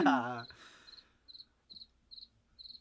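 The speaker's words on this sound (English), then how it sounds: "So many crickets." Crickets indoors give a steady series of short, rhythmic high chirps, faint and repeated about every half second, after a brief voice at the start.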